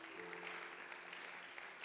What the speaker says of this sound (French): On peut joindre nos deux mains et acclamer Dieu pour lui.